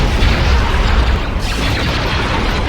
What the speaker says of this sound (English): All cannons fire on lead enemy cruiser.